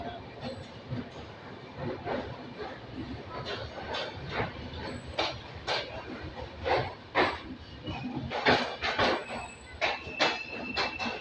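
A train pulls out of Sambalpur station, steady rolling rumble with intermittent clanks and clicks of wagons and wheels, a faint hiss and squeal here and there, fairly close and continuous, with some voices in the background.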